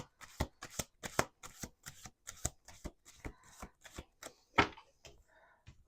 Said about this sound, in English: Let me do this last shuffle.